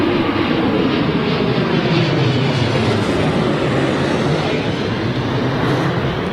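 A Boeing 737-800 airliner lands at London Heathrow, its engines producing a loud, continuous broadband roar that holds steady throughout, heard from nearby outdoors with no talking.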